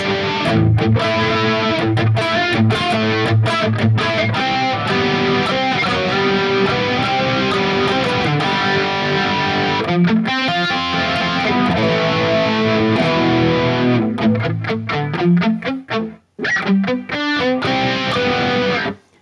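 Distorted electric guitar run through a Sonicake Matribox II Pro with chorus for an 80s tone, a loud, steady stream of riffs and chords with brief gaps near the end, no voices.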